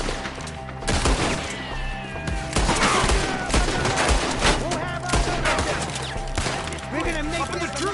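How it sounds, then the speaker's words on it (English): Rapid bursts of gunfire and heavy rifle and pistol shots crack through a Red Dead Redemption 2 shootout, loud and near, overlapping with shouting voices. "Shoot the ones up there first!"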